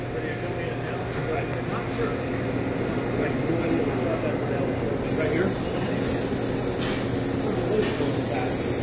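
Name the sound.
Citizen L32VIII CNC Swiss lathe running a part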